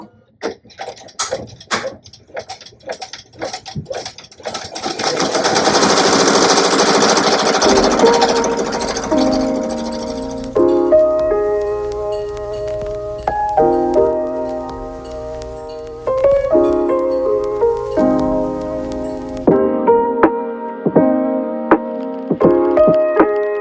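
A Ricoma EM-1010 embroidery machine stitches a design onto a sweatshirt: rapid mechanical ticking first, then a loud, dense whirring run, followed by rhythmic stitching broken by tonal motor shifts and clicks, close and alone.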